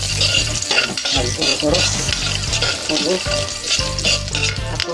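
Garlic fries loudly in a pot with a busy sizzle while a utensil scrapes and knocks against the metal in repeated strokes, and a voice speaks briefly over it.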